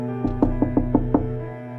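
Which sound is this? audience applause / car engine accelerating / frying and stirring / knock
knock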